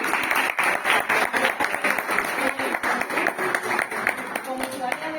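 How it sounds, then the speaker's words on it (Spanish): An audience at a talk on the climate emergency gives steady, close applause, a dense wash of many hands clapping for about five seconds with no break. "Un aplauso."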